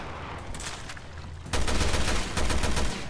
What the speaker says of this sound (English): You gotta shoot in the leg, dude. Shoot in his foot.